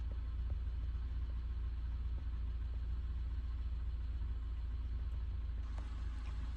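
A Peugeot 306 engine idles steadily while jump starting a Renault Clio, a low, even rumble close by with no speech.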